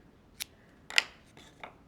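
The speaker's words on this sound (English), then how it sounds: "I'm just gonna snip." Scissors snip through twine while a rustic wood-slice ring pillow is being made: three crisp, separate cuts, the middle one loudest, close and quiet with no talk.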